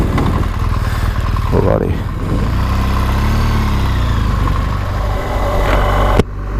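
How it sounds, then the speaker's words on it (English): A 2017 BMW R1200GS motorcycle engine, started in neutral, settles into a steady, loud idle close by, its pitch rising briefly before the clip cuts off abruptly; someone speaks briefly over it. "Okay, let's get this big beast back to life. Ignition on. We're in neutral. There we go."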